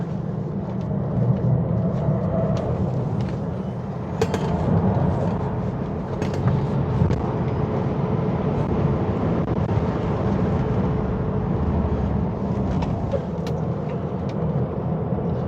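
A Tesla Model 3 drives hard on a race track, heard from inside as a loud, continuous rumble of road and wind noise that surges slightly without any break.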